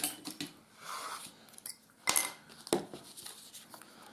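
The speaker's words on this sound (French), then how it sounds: "on va aller couper tout simplement avec nos ciseaux." Scissors snip through paper or cardstock while a cat-themed greeting card is being made, with several crisp, uneven cuts spread across a few seconds, close by and moderately loud.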